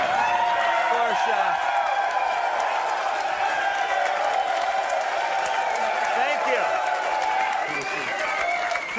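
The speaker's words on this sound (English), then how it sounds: "thank you for that round of applause" Television studio audience clapping and cheering, a dense sustained round of applause with whoops, while a voice talks over it.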